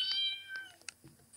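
A cat meows in the puzzle game Brain Test: a few short, clear meows, loud at first and then softer, over a quiet background.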